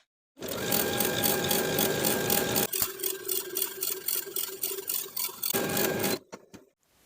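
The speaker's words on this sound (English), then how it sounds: "Then we'll sew both of our side seams and the entire inseam with a 1/4 inch seam allowance and your stretch stitch." A sewing machine runs steady stretch stitches along the side seams and full inseam of a knit wrap jumpsuit, a long continuous whir that slows briefly midway, then resumes before stopping, with no talking.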